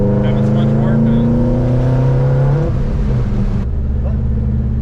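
A 2011 Subaru WRX with a fresh valve cover gasket runs close by, its engine droning loudly and revving with rising and falling pitch before settling back to idle, and a voice talks briefly over it.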